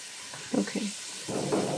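Dinner frying in a pan in the background, a soft steady sizzle and hiss with a few louder spattering bursts, fairly faint and alone without talk.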